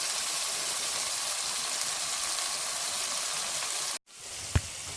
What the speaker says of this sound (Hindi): अभी इसको हमें अच्छी तरह से इसके अंदर करना है फ्राई